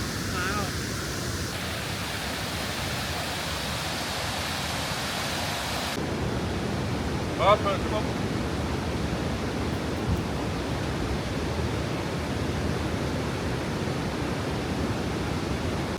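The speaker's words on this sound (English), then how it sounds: "this is the first waterfall you've actually ever seen?" A rushing waterfall swollen by snow melt in France, a loud continuous roar of falling water close by that holds steady throughout, with a couple of brief voices speaking over it.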